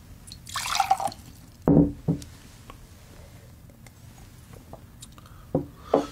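Water poured into a glass, a few short trickles and drips with quiet gaps between them, close and fairly soft.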